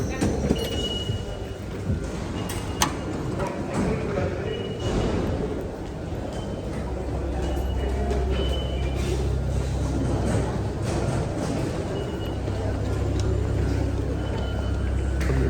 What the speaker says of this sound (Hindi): यहाँ से मैं पकड़ूँगा मेट्रो 5